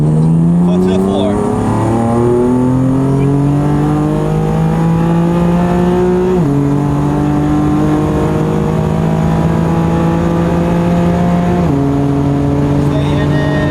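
A stock M4 car accelerates at full throttle in third gear, its loud engine note climbing steadily and droning close up for over ten seconds.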